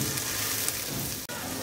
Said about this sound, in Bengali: এই মিনিট দুয়েক ভেজেই রসুনগুলো একটু বাদামি বাদামি হইলেই